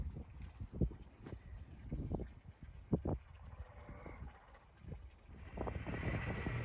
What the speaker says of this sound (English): I apologize for all the wind in this video.